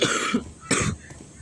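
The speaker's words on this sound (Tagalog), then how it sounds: "Parang meron ako nadidinig na parang umuubo sa laro ah." Coughing in the horror video game Lethal Business: a harsh cough burst, a short pause, then a second shorter cough, fairly close and clear with no talking over it.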